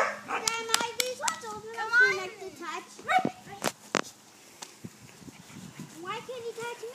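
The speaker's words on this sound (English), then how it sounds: "Ireland, can you get the pups away from me so I can film them?" Seven-week-old standard poodle puppies yip and bark in short, high bursts while playing indoors with a family, the barks mixed with children talking nearby and a few quick thumps.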